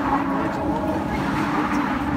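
Cars roll over a metal grill-deck bridge above water in Boston, a steady loud rumbling whir with a low hum running unbroken for the whole stretch.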